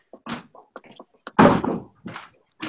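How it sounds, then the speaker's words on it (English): A door is shut indoors with one solid thud, surrounded by softer knocks and handling noises nearby. "I'll shut the door."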